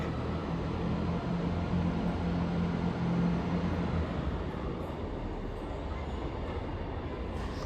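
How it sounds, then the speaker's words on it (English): A train rumbles steadily nearby with a low droning engine hum that fades slightly as it pulls away from platform 1 at Darlington station. "Strange seeing a train go out that way on platform 1"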